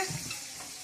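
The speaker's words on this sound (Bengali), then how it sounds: "এখন চলছে মাছ ভাজা।" Fish sizzling in hot oil, a dense, even crackling hiss that stays close and constant for under a second.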